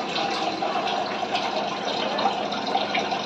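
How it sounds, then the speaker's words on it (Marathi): Water pours steadily into a pot of cooking whole mung dal, giving a continuous close splashing gush for a few seconds with no pauses. "त्याला थोडंसं पाणी टाकून घेऊया."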